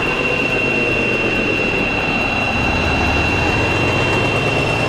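Airplane at an airport in American Truck Simulator, a steady loud low engine roar with a thin high whine running throughout, distant and continuous with no talk.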